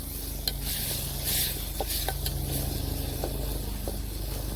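Tomatoes and coriander frying in a pan outdoors on a farm, stirred with a utensil, a steady close sizzle broken by sharp intermittent clicks and scrapes.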